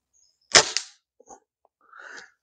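A TX200 spring air rifle fires once at a field target about 30 yards away outdoors: a sharp, close crack, then two faint, brief ticks follow in the quiet.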